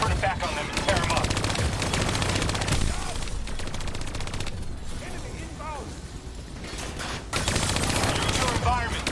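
Hijacked turrets in Call of Duty Black Ops 3 fire sustained rapid automatic bursts, loud and close, in a dense combat mix with brief pauses and voices underneath.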